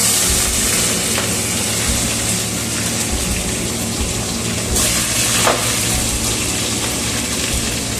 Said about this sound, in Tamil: எண்ணெய் நல்லா சூடாகிடுச்சு. கடுகு, வெந்தயம், மிளகு, சின்ன வெங்காயம் தான் பண்ணிக்கலாம்.